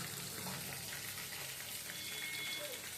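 Fish fries in oil in a pan at low level, a brief steady crackling, sizzling hiss with faint scattered pops.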